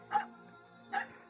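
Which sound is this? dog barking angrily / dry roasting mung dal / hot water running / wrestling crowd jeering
dog barking angrily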